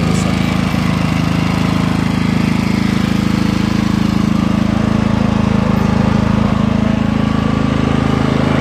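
A household appliance motor runs steadily and loudly, with a constant vacuum-cleaner-like drone and hum that stays even and close throughout.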